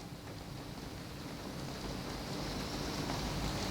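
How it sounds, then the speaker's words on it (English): Steady rain falls continuously as a dense, even hiss of many drops, faint and unbroken with no voices. "It's rain. So many drops."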